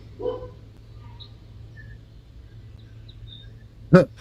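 A dog gives a single sharp, loud bark near the end, preceded by a softer yelp and faint bird chirps over a low background hum.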